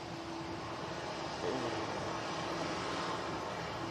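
Airliner engine spooling up at windy Manchester Airport, a steady broadband roar with wind noise that swells slightly partway through and holds, continuous and fairly distant.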